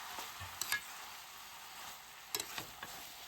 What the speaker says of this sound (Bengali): মশলার সাথে মোচাগুলোকে নাড়িয়ে চাড়িয়ে মিশিয়ে নিয়ে ভেজে রাখা আলুগুলোকেও অ্যাড করে দেব মোচার সাথে